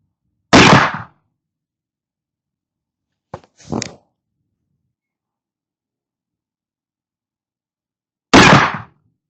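A rifle fired from a shooting bench during a powder load test: two loud, sharp gunshots several seconds apart, each with a short decay, and a softer mechanical clack between them in otherwise quiet air.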